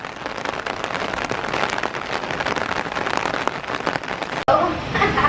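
Heavy rain from a hot-season storm pours down steadily, a dense close patter and hiss running throughout with a brief break near the end, a voice speaking faintly beneath.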